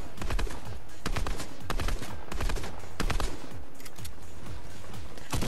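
Video game gunfire comes in rapid repeated bursts of sharp shots, loud and up close, clustered throughout a few seconds of play.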